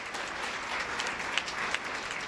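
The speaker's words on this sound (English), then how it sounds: "let's give a big round of applause to all these candidates for sticking their neck out" An audience at a municipal election debate in Orem applauds the candidates, a steady wash of clapping hands with a couple of sharper claps standing out near the end.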